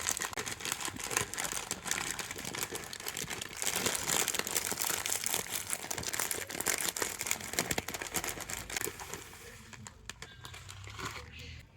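A plastic packet of flattened rice (chira) is handled up close, giving continuous crinkling and rustling with small crunches that thin out toward the end.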